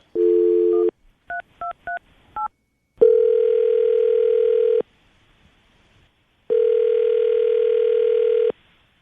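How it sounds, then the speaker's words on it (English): A telephone dials out: a short burst of tone, several brief keypad beeps in quick succession, then two long steady ringback tones separated by a pause while the call connects to a radio morning show. "we're going to call her right now, see if we can get her on the phone"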